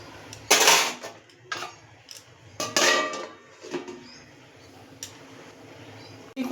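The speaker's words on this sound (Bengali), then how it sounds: "জলটা দিয়ে একদম মিডিয়াম আঁচে দিয়ে এটাকে আমরা ভালো করে ঢাকা দিয়ে দেব।" Metal lid settling onto a pan of egg and potato gravy, heard as a few sharp clanks and scrapes of metal on metal, close and moderately loud, with quieter pauses between them.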